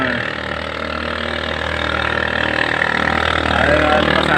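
Motorcycle engine running at a steady, rumbling idle-like pace nearby on a scenic ride, loud and continuous with a slight rise in intensity toward the end, no talking.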